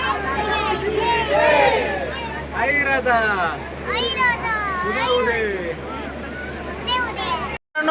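Loud crowd of children and adults chattering and shouting in front of the Tulja Bhavani temple in Tuljapur, a dense continuous babble of kids' voices close by, with a short dropout near the end.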